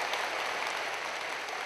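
Audience applause at a Youth Laptop Scheme ceremony in Pakistan, as a laptop recipient is recognised; steady, dense clapping fills the whole short stretch at moderate level with no talk over it.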